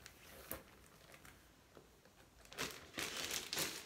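Crinkly plastic rustling in short bursts, a small package being handled and torn open up close, growing louder toward the end.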